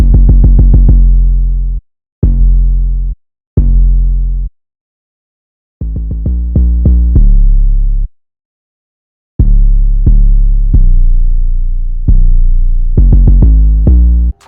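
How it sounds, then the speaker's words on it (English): Spinz 808 bass from a stock drum kit in FL Studio, playing deep booming sub-bass notes in bursts: a quick run, two single hits, a fast rolling cluster, then another run, with silent gaps between and no voice. "So this is what the 808 sounds like."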